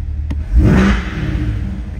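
A 2021 Corvette C8 convertible's engine revs once with the exhaust in quiet mode, a short loud swell that rises and settles back to a steady idle, heard close up with no talking.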